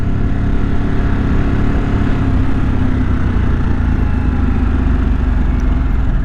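A 2023 Harley-Davidson Sportster S sits idling, its engine putting out a steady, close, low rumble that never changes in pitch or loudness.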